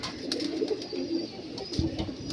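Pigeons of various bloodlines, including Tatira birds, coo softly and continuously in a loft, low murmuring calls close by with faint chirps above.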